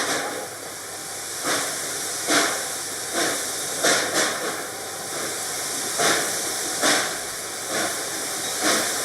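Steady hiss of escaping steam from the Reading & Northern 2102 steam locomotive, heard from the cab, with repeated short bursts rising above a continuous broadband rush as the throttle is worked on and off.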